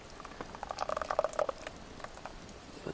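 A spoon stirs a boiling pot of dinner on a backpacking stove in the backcountry, giving soft bubbling and scraping patter with clustered clinks near the middle, fairly quiet and close, with no talk.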